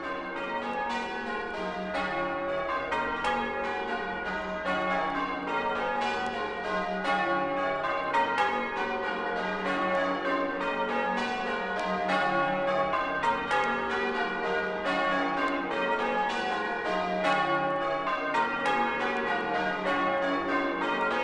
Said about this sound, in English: hearing again the bells pealing out over the village of Wallace and its harbour to the farthest shore